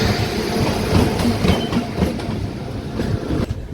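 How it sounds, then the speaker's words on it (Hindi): The Jhelum Express rolls into a small station at night, a steady loud rumble of wheels and carriages with faint clickety-clack throughout, no talk. "और ट्रेन आ रही है।"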